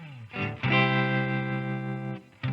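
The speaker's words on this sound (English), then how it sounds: "So let's check out this tremolo block." Sustained electric guitar chord through a Line 6 POD Go with a Fender Deluxe Reverb amp model, cabinet, tremolo and reverb blocks, pulsing in level and ringing out with a reverb tail, played alone.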